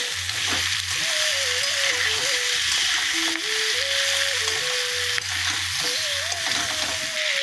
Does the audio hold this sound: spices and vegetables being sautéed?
yes